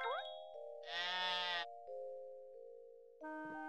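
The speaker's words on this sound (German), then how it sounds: "Jetzt auf einmal das Schaf gespawnt." A sheep bleats in the farming video game Harvest Moon: One World, a loud harmonic cry lasting under a second, set among game chimes and tones, with a second short tonal jingle at the end; no talking.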